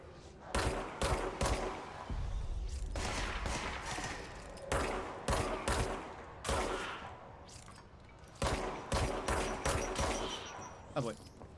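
Bursts of enemy gunfire in the video game Control, several sharp volleys of rapid shots coming in clusters separated by brief lulls, fairly loud and close.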